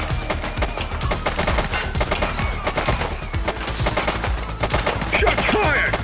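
Gunfire in The Precinct, a police game, comes as rapid, loud bursts of automatic shots in dense volleys, with faint voices underneath.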